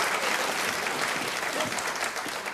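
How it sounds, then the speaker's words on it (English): Audience applause in an old-time music hall variety show, dense continuous clapping filling the moment, moderately loud. "would you give them a round of applause,"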